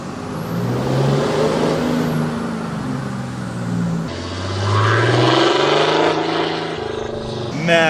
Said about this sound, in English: Oh my God, that turbo sounds so good.